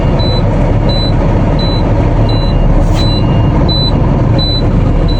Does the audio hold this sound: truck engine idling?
yes